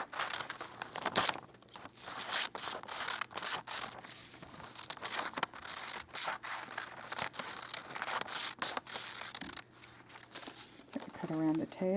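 Scissors cutting around fusible-backed appliqué fabric pieces, giving close, repeated crinkling snips and paper-like rustles of the adhesive backing across the whole stretch, with a few brief voice sounds.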